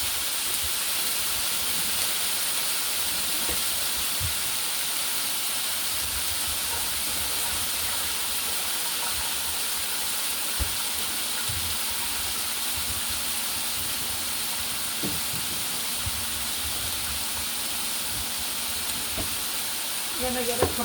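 Chopped tomatoes sautéing in a pan for Jamaican cooking give a steady broad sizzle throughout, with occasional soft clinks and stirring scrapes close by, no talk.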